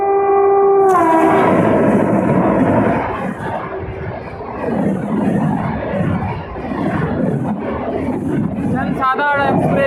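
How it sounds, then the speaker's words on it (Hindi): A Jansadharan Express hauled by a WAP7 electric locomotive approaches, sounding a loud horn, then a sustained rumble of the passing train with crowd noise and voices, and a second horn blast near the end. "कोई ट्रेन आ रही है WV7 के साथ, देखते हैं कौन सी है।"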